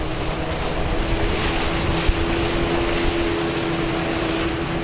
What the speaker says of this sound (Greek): Ο οδηγός του ταχύπλοου, ο Θεός να το κάνει τέτοιο, το περνούσε με μεγάλη επιδεξιότητα και ταχύτητα ανάμεσα από τα εμπόδια και τα στενά.